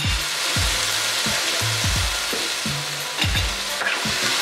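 A whole stick of butter melts in a hot pan with a continuous bright sizzle, close and even throughout, broken by soft low knocks as the pan moves.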